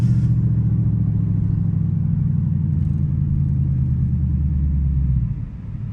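A Dodge Challenger SRT8 rumbles in stop-and-go traffic, a deep steady engine drone heard close up from inside that eases off and quiets near the end.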